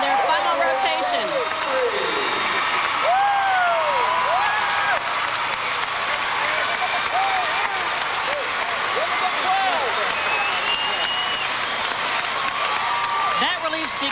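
Crowd applause and cheering in an arena at a 1997 professional gymnastics championship, a sustained loud wash of clapping with whistles and shouts, while a commentator talks over it throughout.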